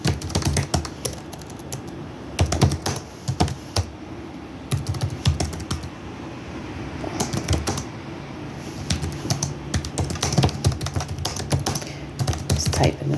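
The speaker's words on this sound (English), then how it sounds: "Just typing this up real quick." Rapid clattering keystrokes on a computer keyboard, close and fairly loud, coming in irregular bursts with short pauses across the whole stretch, with faint background speech at times.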